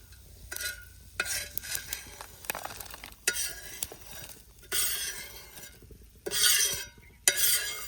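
Grated coconut roasting in a little oil in a pan for a rustic spicy chili dish, with bursts of sizzling and repeated stirring scrapes and clinks of the utensil against the pan.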